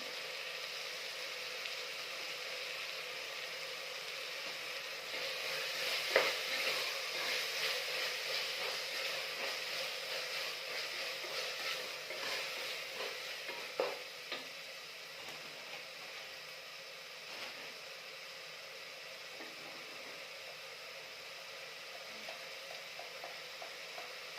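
Tomatoes fry in a pan with salt while a methi-leaf rice bath is cooked, giving a steady, soft hiss and sizzle. Occasional faint stirring clicks sound through it, and no one speaks.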